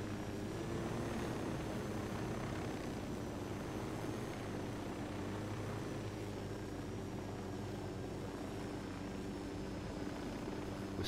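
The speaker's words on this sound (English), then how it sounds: "Oh, steal the helicopter." A helicopter in the video game Ghost Recon Wildlands gives off a steady, unbroken rotor and engine drone that holds at an even loudness for the whole stretch, with no talking over it.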